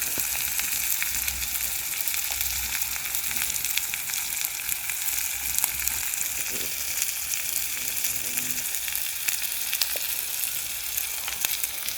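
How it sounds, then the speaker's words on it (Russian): Onion frying in a pan over a campfire by a lake, a continuous crackling sizzle with faint scattered pops, steady and close throughout. "На таком огне лук быстро жарится."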